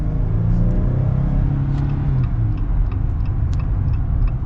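2022 Jeep Gladiator Rubicon with its 3.6-liter V6 accelerating, a loud close engine rumble that climbs steadily in pitch as the revs rise, heard from inside the cabin with light ticking over the drone.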